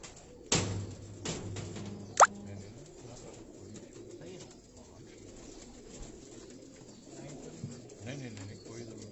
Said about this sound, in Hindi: हाजी साहब, आपके हाथ में एक बड़ा खूबसूरत परिंदा देख रहा हूँ, कौन से ये कबूतर है?